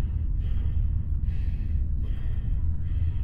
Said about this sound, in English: Y'all hearing this man breathing?